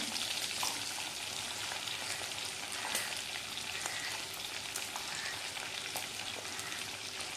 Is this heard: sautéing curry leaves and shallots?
yes